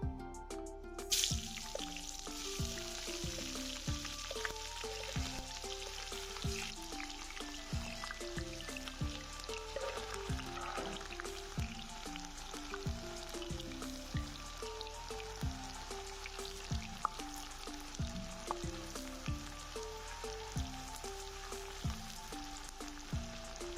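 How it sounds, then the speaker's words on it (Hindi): Cooking oil crackling as it heats in a frying pan on a stove for tadka, a soft continuous sizzle with sparse drip-like pops, faint and steady and without speech, while background music plays throughout. "तो मैंने चूल्हा जला दिया है, मैंने फ्राई पैन रख दिया है। इसके अंदर मैं ये 4 टेबल स्पून तेल डाल रहा हूँ।"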